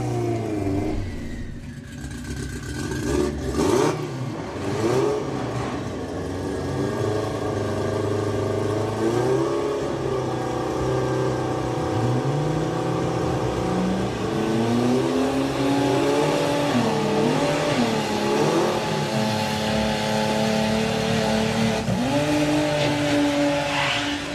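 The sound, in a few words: drag race launch, car spinning its tyres, Greenlight Nationals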